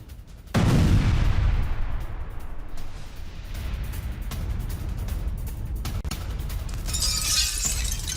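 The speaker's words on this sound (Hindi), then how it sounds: "आईडीएफ की विध्वंसक बमबारी से दहला यह शहर" Explosions and gunfire from an Israeli bombardment of a city in Lebanon: a heavy, loud blast opens, followed by a sustained rumbling roar with crackling debris and a harsh, noisy tail.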